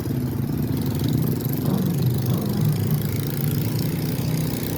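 A replacement motorcycle engine runs steadily close by at a low, even idle, with a continuous rumble that carries no talk.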